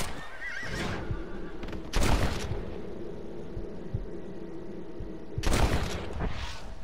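A horse in the Red Dead Redemption video game neighs loudly in several sharp, shrill whinnies, with low rumbling game ambience running underneath between the calls.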